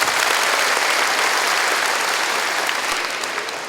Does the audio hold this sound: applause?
yes